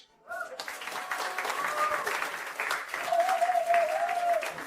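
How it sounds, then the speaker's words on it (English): An award-ceremony audience breaks into steady applause after a brief quiet start, the clapping swelling and holding at moderate distance while a voice talks over it. "Can we get a big round of applause for our founders, Charlotte Brown and Harper Lee?"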